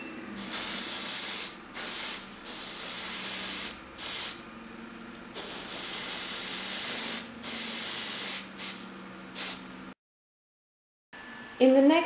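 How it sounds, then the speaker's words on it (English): A Harder and Steinbeck Infinity airbrush with a 0.4 needle sprays light grey Vallejo Model Air paint onto a Warhammer 40k rubble base, in close, steady hissing bursts with short gaps, then falls silent near the end. "I'm going to use my Harder and Steinback Infinity airbrush"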